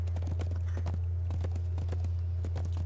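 Rhythmic clip-clop of horse hooves walking in a video game, steady and fairly close over a constant low hum, with no talking.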